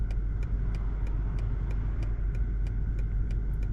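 A BMW 760i's engine hums in a low, steady rumble from inside the car as it drives, with faint regular ticking sounds above it and no talking.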